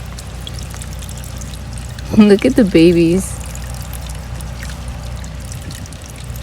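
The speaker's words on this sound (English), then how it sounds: "And I gotta add some water as well." Water being poured onto succulent plants in a garden after weeks of rain, heard as a short splashing pour of about a second amid talking.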